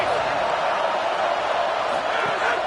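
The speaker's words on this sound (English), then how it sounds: "Listen to this crowd just shaking the girders of this place" A loud football stadium crowd at a Missouri game roars for its defense in one dense, sustained wall of noise with no breaks.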